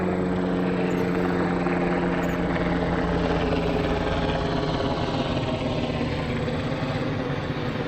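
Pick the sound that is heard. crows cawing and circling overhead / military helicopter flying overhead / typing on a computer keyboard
military helicopter flying overhead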